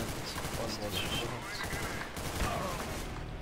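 Gunfire in Counter-Strike: Global Offensive, quick shots popping under a steady bed of game noise and voice chatter, fairly faint and distant in the mix.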